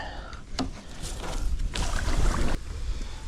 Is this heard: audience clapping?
no